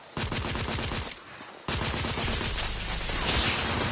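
Rapid bursts of automatic gunfire from a firefight in The Order: 1886, loud and dense, with a brief lull near the middle before the shooting resumes even heavier.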